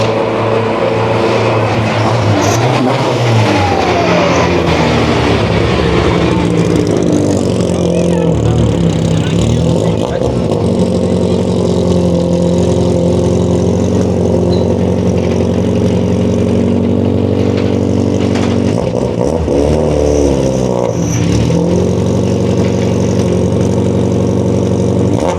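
Peugeot 205 rally car rolling into a rally service park, its engine loud and close with a rough idle and revving rising and falling, amid crowd murmur and people talking nearby.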